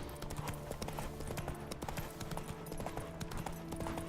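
Horse hooves gallop in a rapid, continuous clip-clop during a race in the video game The Witcher 3, heard alone at a steady, fairly quiet level.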